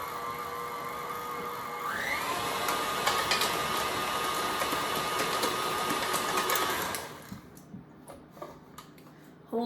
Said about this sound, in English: Hold on to your mixer when you're mixing with the dough, this dough, because your mixer will move.